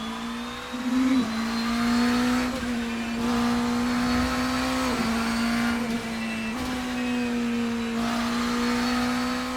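Porsche 963 prototype race car in the Assetto Corsa racing game at the Nordschleife, a steady loud engine drone that dips briefly between upshifts and then climbs again, with no talk.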